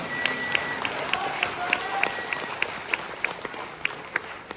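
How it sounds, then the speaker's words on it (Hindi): After a comic skit at the CSIR-NPL Foundation Day 2024 event, the audience gives scattered applause, with crisp individual claps standing out at a fairly even pace over a soft background wash of crowd noise. "तो रश्मि और प्रिया दोनों, आप सबकी तालियां बता रही कि पसंद नहीं आया।"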